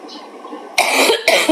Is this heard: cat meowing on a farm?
no